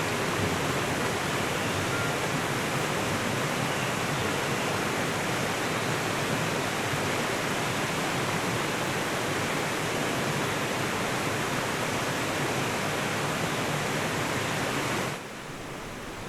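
Forest stream of pure water in a Romanian forest: a dense, steady rushing and splashing of flowing water, close and loud, continuing unbroken before dropping slightly at the very end.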